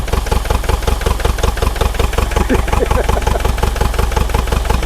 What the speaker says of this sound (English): it's only running on 1 or 2 cylinders at the moment